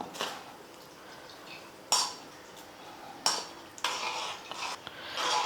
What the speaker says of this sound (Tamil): கொஞ்சம் கொஞ்சமாக ரவை சேர்த்து கட்டி இல்லாமல் கலந்துக்கலாம்.